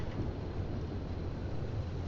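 Rain in the Pacific Drive driving game, a steady soft hiss with low rumbling underneath, moderate level and unbroken, no voices.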